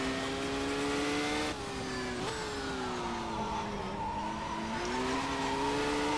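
A race car in the Race 07 racing game revving hard, with a loud engine note that climbs, drops on a gear change, then rises again over tire noise.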